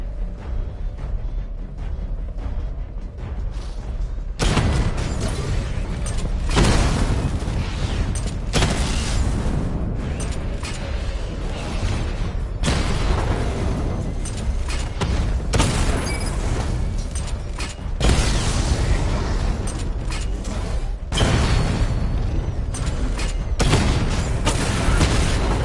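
Missile barrage from the Batmobile in Batman: Arkham Knight, a run of loud, booming explosions in repeated waves of heavy bursts with rumbling tails, steady and dense with no talk.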